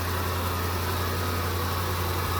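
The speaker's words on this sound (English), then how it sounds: "all you hear is probably the injectors and my fan noise" A car engine runs steadily after a major repair, its fuel injectors ticking faintly over a low hum from the engine and the cooling fan, loud and close, even throughout with no voices.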